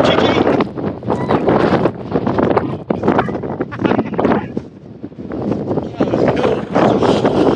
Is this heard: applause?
no